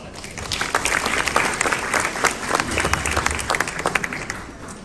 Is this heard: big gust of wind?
no